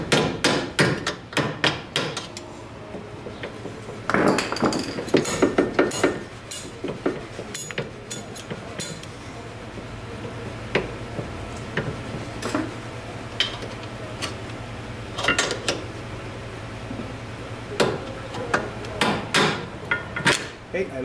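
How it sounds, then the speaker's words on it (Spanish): A hammer taps a flat punch on the suspension of a Ford Focus during a ball joint and control arm replacement, giving quick clusters of sharp metallic clinks, close and loud at first, then sparser lighter taps with pauses. "Ahora le pongo un golpecito para acá con el planito."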